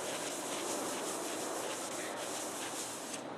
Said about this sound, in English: Now you go back to it, back wipe off all the excess liquid wax cleaner.